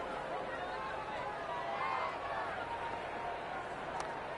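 Crowd murmur at a cricket ground in Cricket 26, a steady, dense buzz of spectators filling the whole stretch with no single voice standing out, swelling slightly midway.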